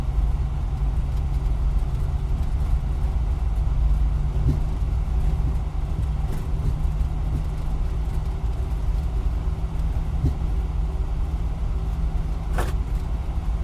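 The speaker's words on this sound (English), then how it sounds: "looking down there at the engine start, it's just introduced fuel, EGT is rising, that means we do have ignition" An Airbus A321neo engine spools up during start in the FSLabs flight simulator, a steady low droning hum with a constant whine, continuous and even in level with a few faint clicks.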